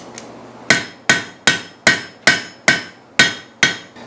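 Hammer striking a steel trivet piece to straighten it, eight sharp ringing metallic blows in an even rhythm, loud and close with nothing else heard.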